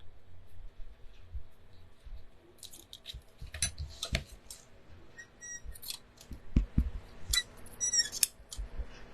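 Handheld scissors snip paper strips from a snippet roll for craft cards, giving several short, crisp cutting sounds at close range alongside light handling rustle, with no talking.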